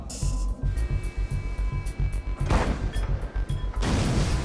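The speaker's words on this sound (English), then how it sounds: "The shells explode beside the target," Rapid repeated booming blasts of naval gunfire pound in a steady rhythm, followed by two broader roaring explosions with hissing spray as shells burst beside the target destroyer HMCS Huron at sea.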